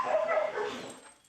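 A working search dog in training, distracted by a ball, gives a quick run of excited yips and whines, close and fairly loud, fading toward the end.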